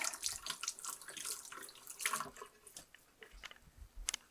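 A dish from a chip dip condiment being washed under a running kitchen tap, a quiet gushing and splashing stream with uneven bursts and brief clatter as it is rinsed, no talk.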